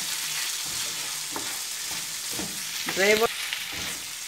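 Rice being fried and stirred in a pan with seasoning of cumin, garlic and onion, a steady close sizzle with scraping stir strokes and a brief clatter near the end.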